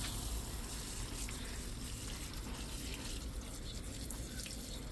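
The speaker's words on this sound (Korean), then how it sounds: "그래서 시원하게 물 좀 줄게요." Steady spray of water poured over potted plants under a covered roof, a soft continuous hiss and patter with faint drips, fairly quiet and without talk.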